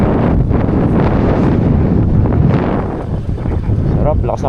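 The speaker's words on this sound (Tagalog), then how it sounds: "Sarap, lakas ng hangin." Strong wind buffets an outdoor microphone at a campsite landing point, a loud continuous roar with gusty surges throughout.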